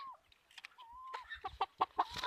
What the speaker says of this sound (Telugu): ఇది కూడా కల్తీ పందెం కోడి పిల్ల కానీ వెయిట్ అనేది చాలా ఎక్కువ వస్తాయి